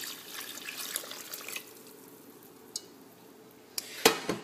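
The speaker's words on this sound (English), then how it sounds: "You want to stir the rice in with the mixture really, really well." A spoon stirs rice into a wet mixture in a pot for arroz con pollo, soft scraping and sloshing early on, then a few sharp clinks of utensil against the pot near the end.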